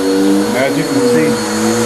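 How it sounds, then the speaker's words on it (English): A vacuum cleaner runs over carpet, its motor drone loud and steady for the whole stretch, with a voice talking over it. "I'm gonna just run the vacuum through just real quick"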